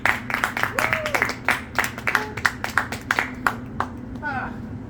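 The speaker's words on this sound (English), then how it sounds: "Yes, that applause reflects my comedy career." Sparse, thin clapping from a small comedy club audience, scattered claps fading out while a voice and crowd murmur sit underneath.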